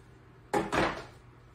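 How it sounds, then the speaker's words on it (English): A baking pan of baby back ribs with its lid on slides into a hot home oven, making two quick close metallic thumps and a short rumbling scrape, then quiet. "So it will go into the oven for 1 hour with the lid on."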